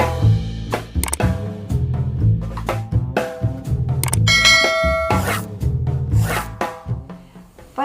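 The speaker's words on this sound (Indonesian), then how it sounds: "bunyikan bel notifikasinya" A notification bell sound effect rings out as a bright, sustained chime partway through a rhythmic musical backing, with clicking percussive hits throughout and no talking.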